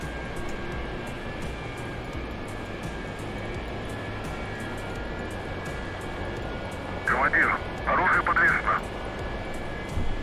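A MiG-19 jet in the DCS flight simulator gives off a steady, continuous engine drone. Voices talk over it, and a brief radio-like chatter cuts in near the end.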